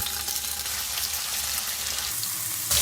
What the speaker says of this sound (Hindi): पनीर को अलटते पलटते 2 से 3 मिनट फ्राई करेंगे।